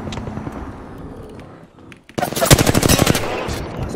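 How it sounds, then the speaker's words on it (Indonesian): Rapid, loud automatic gunfire bursts from an airstrike in the Apex Legends video game, following quieter game sounds and a brief lull, with a player's voice present. "Calling the airstrike."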